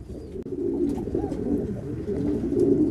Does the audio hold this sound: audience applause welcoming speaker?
no